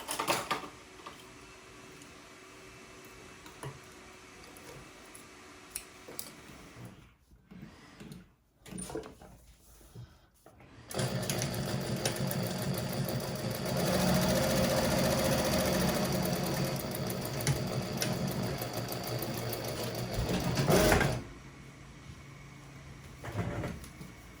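A home sewing machine runs a quarter-inch seam through two pocket lining pieces for a handbag. A long steady motor whir follows shorter bursts and pauses, and the machine is close and moderately loud.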